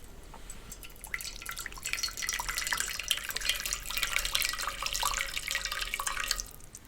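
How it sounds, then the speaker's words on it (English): Water pours steadily into a pot for cooking Samyang spicy noodles, a close, continuous splashing trickle that swells over several seconds and then stops, with no talk. "let me pour the water here first"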